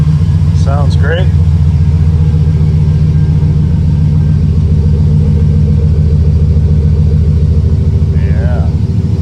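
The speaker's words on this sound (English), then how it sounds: "Hear the exhaust against the wall back here." Steady low rumble of a 2008 GMC Sierra pickup's 5.3 liter V8 exhaust idling after a cold start, echoing off a nearby wall, loud and constant throughout with brief talk over it near the start and end.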